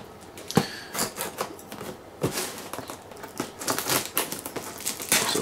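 Unboxing of an EVGA GeForce GTX 1080 Founders Edition graphics card, heard as close, busy crinkling, rustling and tapping of cardboard and packaging, with irregular clicks and scrapes throughout and no talking.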